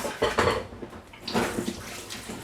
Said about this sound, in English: I'm just going to get rid of this water, rinse them